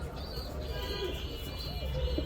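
Low pigeon coos roll in the background, soft and intermittent, with faint chirps above a steady murmur; Lahore pigeons.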